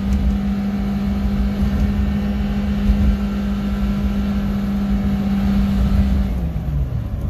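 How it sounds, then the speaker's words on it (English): A Subaru Sambar kei truck engine drones steadily from inside the cab while driving at about 80 km/h, a loud, constant hum that holds level and then dips slightly near the end. "but watch, we're accelerating."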